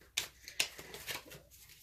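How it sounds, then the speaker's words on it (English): Tarot cards shuffled by hand during a reading, a soft papery riffle with two sharp snaps near the start and lighter flutters after, close and quiet, with no talking. "my cards just aren't wanting, I know y'all can't see because I'm shuffling over here in the background"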